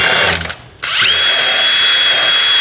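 A power tool drives a head bolt into the engine of a 1968 Oldsmobile Toronado, whirring loud and close in two bursts split by a brief pause, the second a steady high-pitched whine.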